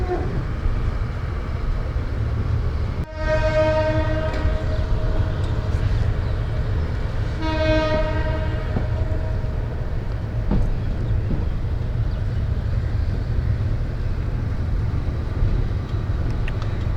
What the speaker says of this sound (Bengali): আমরা এখন Chittagong railway স্টেশনকে tata bye bye জানিয়ে চলে যাচ্ছি সামনের দিকে, কক্সবাজারের দিকে